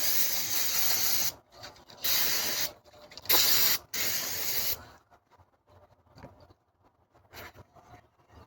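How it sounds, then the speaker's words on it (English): Aerosol parts cleaner hisses in several loud, close bursts onto a Mercedes E500 car valve cover, followed by quieter handling and rubbing sounds. "we're just gonna go ahead and spray it down with some parts cleaner"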